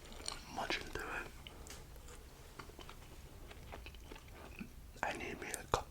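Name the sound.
chewing and munching a donut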